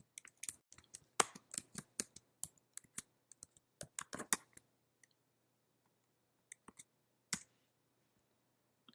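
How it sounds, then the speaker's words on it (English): Light clicks of computer keys typed in quick bursts, with a dense run of taps then a pause and a few isolated key presses, close and quiet with no voices. "I'm going to type in Merry Christmas."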